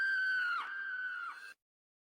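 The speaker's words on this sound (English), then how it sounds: "you're startled awake by a blood-curdling scream" A single piercing, sustained scream in a Minecraft horror setting, loud and close, holding steady for about a second and a half with a slight waver before cutting off abruptly into silence.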